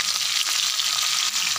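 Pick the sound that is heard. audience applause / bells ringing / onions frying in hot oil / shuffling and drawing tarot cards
onions frying in hot oil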